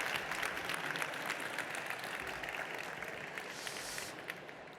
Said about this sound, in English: you already gave her a big round of applause, but let's give another one